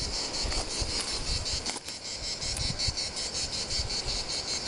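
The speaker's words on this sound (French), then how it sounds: "Elles sont joyeuses les cigales ici, c'est cool." Cicadas chirp loudly and continuously outdoors, a dense pulsing drone filling the whole stretch without any voices.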